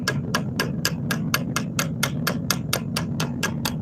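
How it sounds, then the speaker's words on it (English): A hammer repeatedly strikes a copper piece to give it a hammered finish. The blows land as a steady, fast, evenly spaced series of sharp metallic taps, about fifteen in under four seconds, close and loud. "you hammer the crap out of it and try not to hit your fingers"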